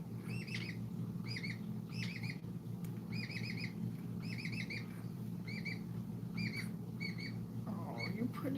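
Pet parrots squawk and chirp in repeated short, bright bursts over a steady low hum indoors, with a brief rustle near the end.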